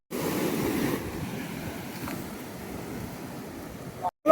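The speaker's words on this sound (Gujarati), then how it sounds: "તમે જોઈ શકો છો સામે કેટલા ઊંચા ઊંચા મોજા ઉછળી રહ્યા છે" Ocean surf at Nagoa Beach in Diu, with high waves breaking offshore as a continuous broad wash mixed with wind buffeting the microphone, moderately loud and steady, ending in a brief cut.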